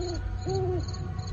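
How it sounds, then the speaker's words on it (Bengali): An owl hooting from a banyan tree near a cremation ground, two clear tonal hoots with a short gap, close and fairly loud over a low rumble. "বট গাছ থেকে পেঁচার ডাক"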